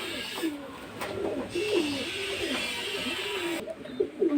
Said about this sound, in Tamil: எந்தளவுக்கு புறா நல்லா ஆக்டிவாக இருக்குது பாருங்கள்.